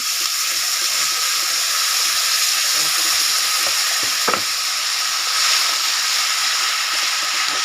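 Onions and curry leaves frying for suji upma hiss loudly as water is added to the pan, a steady, close sizzle with a brief clatter partway through.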